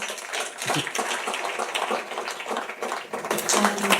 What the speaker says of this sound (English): Let's give Sadhguru a round of applause, please